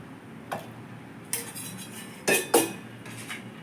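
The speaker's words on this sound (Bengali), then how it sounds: "এবার টমেটোর সেদ্ধটাকে মিক্সির জারে দিয়ে দিচ্ছি" Boiled tomatoes go into a mixer jar, a few sharp metallic clinks and knocks of utensil against jar standing out from a quiet kitchen background, with two louder clatters close together near the end.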